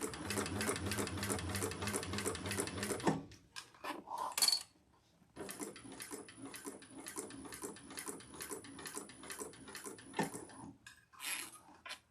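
A sewing machine stitches the sides of a handbag in two long bursts of rapid, even mechanical chatter, split by a brief pause with light handling clatter and a short final run, close and clear.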